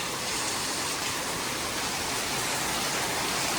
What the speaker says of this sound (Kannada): ಮಳೆ ಅಂತೂ ಜೋರಾಗಿ ಬರ್ತೈತೆ